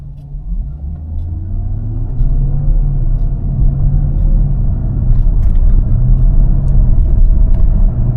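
Porsche Cayenne pulling away from a stop and accelerating through first to third gear, heard from inside as a loud steady low engine rumble that swells after the first two seconds and stays smooth, no talking.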